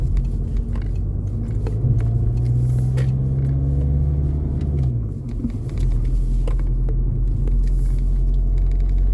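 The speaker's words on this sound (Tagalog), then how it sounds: "Grabe naman ang traffic dito." Road traffic rumbles past in heavy congestion, with a loud continuous low drone of car engines, one vehicle's tone sliding down midway, and faint clicks and knocks from the street throughout.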